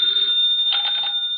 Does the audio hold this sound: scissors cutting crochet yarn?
no